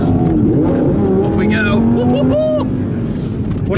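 An Audi R8 V10 Plus accelerates hard off the line, its V10 engine climbing through rising revs with quick gear-change steps, loud and close, while someone talks over it.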